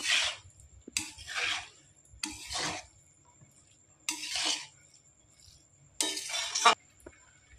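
Boiled pasta gets stirred in a pan in a home kitchen in five separate scraping, clinking bursts with quiet gaps between them, close and fairly loud.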